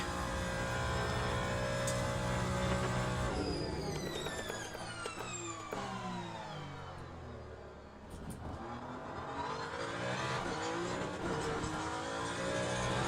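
A Ferrari race car in Le Mans Ultimate at Bahrain, its engine screaming at high revs, then dropping through rapid downshifts with crackling pops under braking before climbing back up the gears, loud and continuous.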